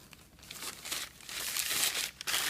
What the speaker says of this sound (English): When you're making fans, just going to tape it together a bit